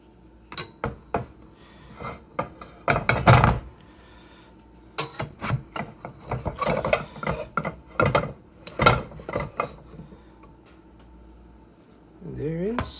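A spatula scrapes and pries a freshly baked bread loaf loose from its pan in bursts of close metallic scraping and knocking, with a voice talking between them.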